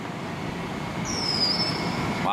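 A train rumbling past close below at a train station, a loud steady roar with a high metallic wheel squeal rising over it partway through.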